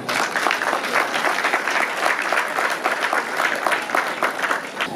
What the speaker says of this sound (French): On peut applaudir à sa mémoire.